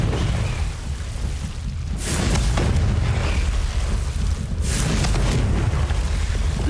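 Confringo explosion spell cast in the video game Hogwarts Legacy: two loud, booming blasts a few seconds apart over a steady rumbling game background.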